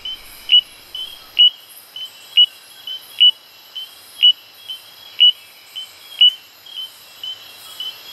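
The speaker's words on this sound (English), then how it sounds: "the forest is alive with the bell-like calls of the golden-legged bush frog" Short, clear bell-like calls of a golden-legged bush frog in the Borneo jungle at night repeat at a steady pace, roughly one every half second to second, ringing out alone over a quiet background.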